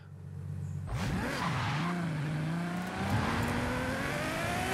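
All-wheel-drive Ferrari 599 GTO in Forza Horizon 5 launching after a quiet idle, the engine revving hard and climbing through the gears with a loud, close roar and tire noise.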